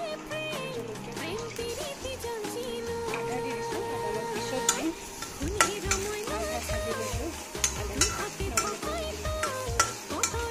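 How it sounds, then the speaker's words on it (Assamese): Ginger, garlic and green chili paste frying in a pan for a fish curry: a soft steady sizzle with repeated scraping and clicking strokes of a spatula stirring, growing more rhythmic toward the end. "এইখিনিও অকণমান টাইম ভাজি ল'ম।"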